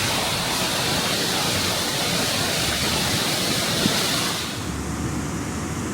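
A waterfall in Newfoundland roars as a dense, steady rush of falling water, loud and continuous, easing slightly near the end, with no voices.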